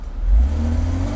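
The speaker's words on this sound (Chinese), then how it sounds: "我们从这个转速的感觉可以听得到，4000转以后爬升特别快。" A Mercedes R129 300SL engine, with a five-speed gearbox and a freshly repaired fuel distributor, revs up in a short, loud burst. A deep engine note climbs quickly and holds close by.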